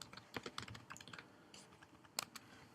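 Rapid keystrokes on a computer keyboard while an HTML file is being written, a close, dry patter of uneven taps with brief pauses and a sharper burst near the end.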